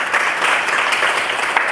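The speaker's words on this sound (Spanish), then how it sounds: "Denle un fuerte aplauso al Espíritu Santo" A church congregation applauding loudly and steadily during a Spanish-language service, a dense wash of clapping hands filling the space without pause.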